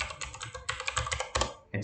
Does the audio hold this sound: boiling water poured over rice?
no